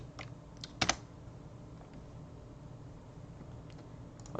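Quiet typing of a file name on a computer keyboard, scattered soft key taps with one brief louder burst of clicks, close-up with no voices.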